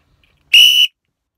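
A single loud, shrill whistle blast, about a third of a second long, close up and alone against silence.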